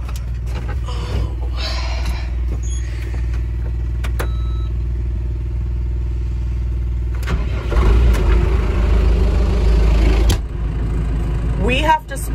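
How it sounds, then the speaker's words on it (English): A farm tractor's engine hums at a low idle, then cranks into a louder, rougher run for a few seconds before easing back with a clattering finish. "So I'm gonna get my tractor started, get my sprayer on"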